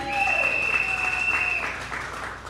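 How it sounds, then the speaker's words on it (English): An audience applauds at a public speaking event in St Joseph, a brief burst of moderately distant clapping that fades out, with a faint voice or tone at the start. "Let's give them a round of applause,"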